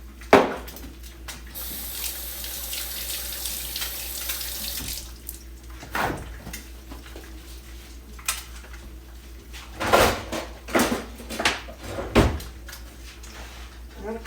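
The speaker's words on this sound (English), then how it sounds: "So hang on, let me wash my hands off." Tap water running into a sink as someone washes their hands, a steady splashing flow close by with a few cupboard or door knocks mixed in.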